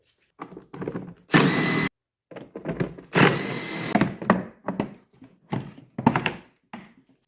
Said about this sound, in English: We must now remove these 5mm hex or Allen bolts to expose the DME underneath this lid.